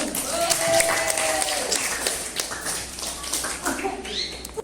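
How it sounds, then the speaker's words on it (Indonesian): Classroom of teachers in a coding and AI training session clapping for a presenting group, brief uneven applause from a modest number of hands, with voices talking over and after it. "Oke, tepuk tangan untuk kelompok 1."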